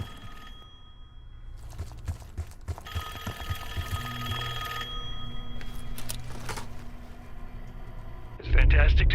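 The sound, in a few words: telephone ringing in video game Call of Duty Black Ops 6 Zombies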